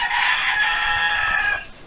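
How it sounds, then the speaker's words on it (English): A backyard rooster crows once nearby, a loud sustained cock-a-doodle-doo lasting over a second and a half before trailing off, with no talk around it. "that's my rooster out there"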